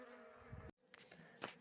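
Honeybees buzz as a new swarm settles into an empty wooden hive, a faint, dense hum from the insects nearby. The hum briefly drops out, then returns with no talking.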